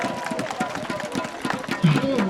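Baseball stadium crowd applauding after a Nexen Heroes vs Hanwha Eagles game, a dense, steady patter of many clapping hands at moderate distance, with crowd murmur and a voice rising near the end.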